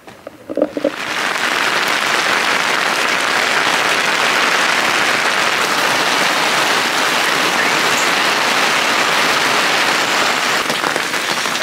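Heavy rain pours onto a mountain hiking trail at a rest post on Mount Sumbing via the Garung route, a dense, loud, unbroken hiss that starts abruptly and stays steady.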